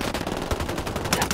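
Rapid gunfire in the Ghost Recon Wildlands video game, a dense stream of close, loud shots running right through the short burst, with a few sharper reports standing out near the end.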